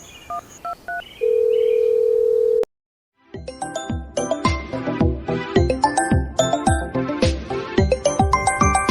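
Keypad tones beep as a phone number is dialed, a steady tone holds for over a second, and after a short gap a bright, repeating ringtone melody plays loudly.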